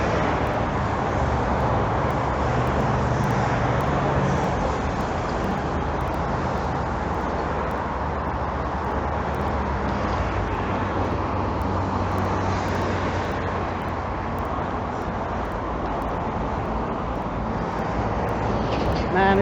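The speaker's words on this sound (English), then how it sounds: "Oh, there's little smaller lorries." Steady roadway roar as lorries and other traffic pass on a road in Brisbane, a continuous broadband rumble heard from a bicycle, with a little faint talk over it.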